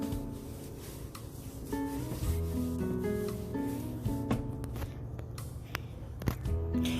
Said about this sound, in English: Now let's apply the paste to the surfaces of the rice cooker.